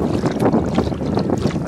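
Gusty wind buffets the microphone on a small portable boat out on choppy open water, giving a loud, continuous rushing roar with no speech.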